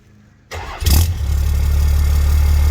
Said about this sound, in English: here goes the first start with the new Flo Pro stainless exhaust